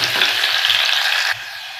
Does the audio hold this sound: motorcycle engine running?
no